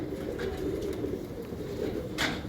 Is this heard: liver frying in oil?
no